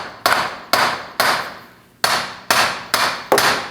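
Sharp metallic hammer blows on a rusted driveshaft cup and spacer of a Dodge Durango 5.7L V8, seven in all, landing in an uneven rhythm with ringing decay between strikes, close and loud.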